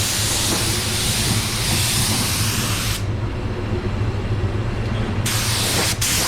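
A 3M Performance spray gun spraying, a loud continuous broadband hiss close by, briefly dropping in intensity midway before resuming at full force.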